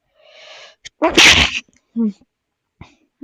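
A single loud, sharp sneeze up close, with faint breathy sounds and small vocal noises around it.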